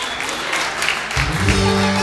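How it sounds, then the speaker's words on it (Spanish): A party crowd at a quinceañera claps as the honoree makes her entrance, loud and close, while music starts underneath partway through. "más fuertes los aplausos para Diana Berenice,"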